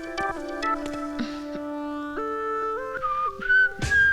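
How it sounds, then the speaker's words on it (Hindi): A person whistles a wavering melody of held, sliding notes for several seconds, fairly close and clear, with a few soft knocks and rustles in the background. "सीटी क्यों बजा रहे हो"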